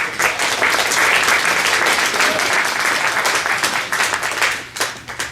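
Sustained audience applause at a live show, a dense, loud wash of many hands clapping that holds steady for several seconds and begins to thin toward the end.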